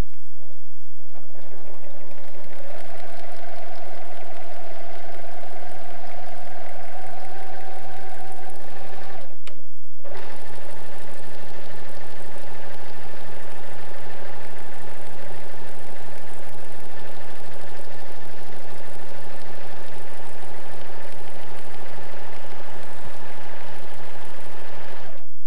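A sewing machine stitching a corded scallop with number 5 pearl cotton, a loud steady mechanical whirr running almost nonstop, with one brief pause before it resumes at a slightly different pitch.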